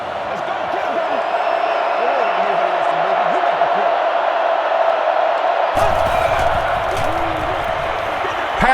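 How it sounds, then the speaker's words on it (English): Stadium crowd in Madden 10 football cheering after a catch, a steady loud roar of many voices that swells sharply near the end, with a commentator talking over it throughout. "I love listening to the crowd when you see a catch like that."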